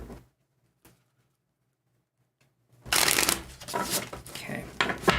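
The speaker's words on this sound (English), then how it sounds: "Let's do a couple more shuffles here." Tarot cards being shuffled, a loud crisp riffling burst of card flutters in the last two seconds after near silence with a faint tap.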